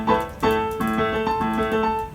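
Piano notes sharing one letter name an octave apart, struck one after another in a slow, evenly spaced sequence, each ringing clearly and alone with no talking over them.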